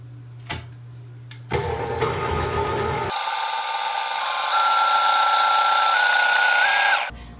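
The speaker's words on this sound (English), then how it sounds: "I am going to beat these ingredients on high until we have stiff peaks." An electric mixer whips egg white powder on high: a brief start, then a louder motor burst, settling into a steady high-pitched whine that rises slightly before cutting off at the end, close and alone.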